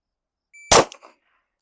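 A single handgun shot in a one-round target transition drill: one sharp, loud crack at close range with a brief ringing tail, then silence.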